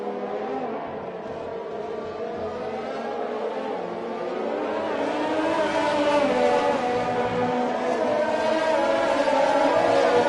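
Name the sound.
F1 race cars racing at Britain, from a video game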